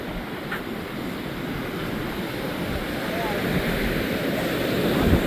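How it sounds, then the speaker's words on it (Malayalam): Sea waves roll up an island shore with a continuous close wash of surf under wind, slowly building louder. "അതാ കടൽ ഇങ്ങ് വരെ വരുന്നുണ്ട്"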